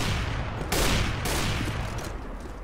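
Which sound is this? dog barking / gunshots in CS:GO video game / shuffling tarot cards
gunshots in CS:GO video game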